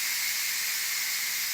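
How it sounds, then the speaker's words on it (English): Steam hisses out of a pressure cooker during manual release as beef cooks inside, a loud, steady, unbroken rush of high hiss close by with nothing else audible. "Okay, so that's the steam all coming out."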